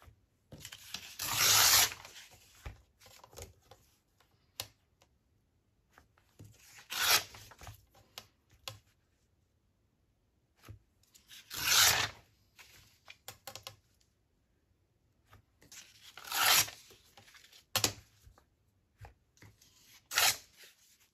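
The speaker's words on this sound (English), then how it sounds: "I'll just tear one out." Paper sheets torn out by hand while finishing journal covers, several distinct ripping bursts separated by quiet pauses, close and crisp.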